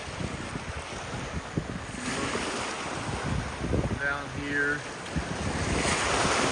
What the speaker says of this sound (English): this is where it's flooding into the neighborhood here